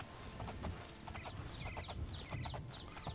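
Hooves of a horse galloping in the Oblivion video game, a steady rapid clip-clop rhythm close up, layered over constant game ambience and small chirps, with no talk.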